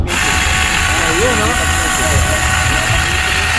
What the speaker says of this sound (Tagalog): Chainsaw na di battery.